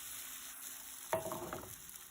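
Crepe batter hits a hot buttered pan and gets swirled, a sudden close sizzle that bursts up midway and fades over about a second, after quiet background hum.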